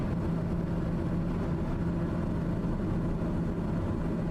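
A TBM airplane cruising in a flight simulator game, giving a constant dense low engine drone with a rough, rattly texture, unbroken and fairly loud throughout.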